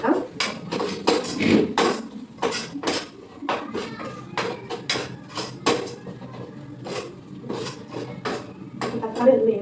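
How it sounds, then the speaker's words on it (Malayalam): Rice and tomato are stirred in a cooking pot, with a busy, irregular clatter of a utensil scraping and knocking against metal while a person talks over it. "നമുക്ക് അതിലേക്ക് അരി വെച്ചിട്ട് തക്കാളി കൊടുക്കാം. എന്നിട്ട് നമ്മൾ ഒന്ന് ഇളക്കി കൊടുക്കാം."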